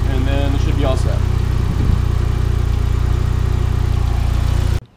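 A Mitsubishi Evolution engine idles steadily in a garage after a radiator and intercooler install, producing a loud, constant low rumble. Someone speaks over it near the start, and the engine cuts off abruptly just before the end.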